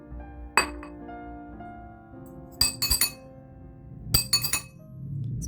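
A spoon and fork strike a bowl in a kitchen-utensil music piece, producing bright ringing clinks in small clusters, each followed by a lingering metallic-glassy tone that fades before the next group of taps.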